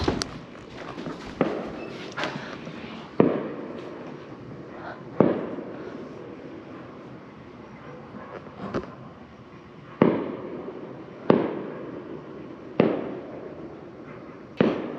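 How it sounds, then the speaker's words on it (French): Fireworks exploding outside: a series of sharp bangs at irregular intervals, about a dozen over the span, each trailing a short rumbling decay, heard from a moderate distance. "C'est des feux d'artifice."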